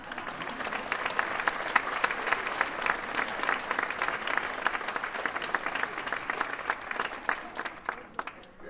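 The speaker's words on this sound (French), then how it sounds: "Vous pouvez vous applaudir." Audience at a benefit opera concert applauding, a dense, sustained clapping from a large crowd that holds steady for several seconds and thins slightly near the end.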